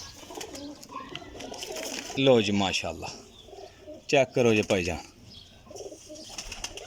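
Kasuri Kamgar pigeons coo softly in the background while someone talks over them, his voice dominating the middle of the stretch.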